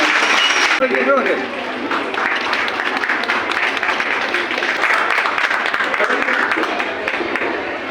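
Audience applause at a district school reopening festival in Kadungallur, Kerala, honouring a teacher on stage, swells after a brief word and then holds as sustained, dense clapping from a large crowd across the whole stretch.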